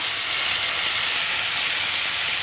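Chopped onions and tomatoes frying in a pan for mushroom masala, giving a steady, close, continuous sizzle and hiss with no talking.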